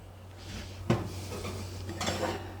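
A hot muffin pan of pumpkin chocolate chip muffins pulled from the oven, one clear metallic clunk near the start and a softer clatter later over a low kitchen hum, no one speaking.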